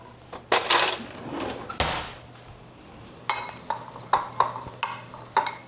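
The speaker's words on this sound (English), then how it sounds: "So we now have the mixture, and we are going to mix this up." Homemade toothpaste is stirred in a bowl with a utensil, producing scattered clinks and scrapes, a few louder taps in quick succession near the end, close by and with no talking.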